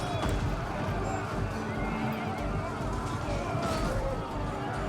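Horses whinny amid a dense, continuous din of battle noise and hoofbeats in Total War: Rise of Mordor, with a busy crowd-like rumble throughout.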